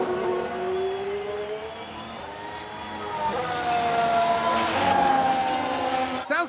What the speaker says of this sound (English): Sounds like a few cars have crashed.